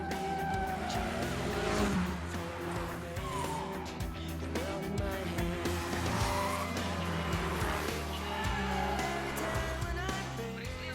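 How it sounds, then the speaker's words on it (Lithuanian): Police car pursuing an offender's vehicle along city streets, loud engine roar and repeated tire squeals and skids throughout, with music underneath and no talk. "Persekioju pažeidėjų mašiną."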